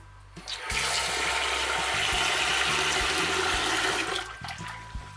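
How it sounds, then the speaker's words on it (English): Cold tap water running hard into a pot of sushi rice being washed, a loud continuous rushing splash that fills the clip and tapers off near the end, with no talk. "the way to wash sushi rice is under cold water"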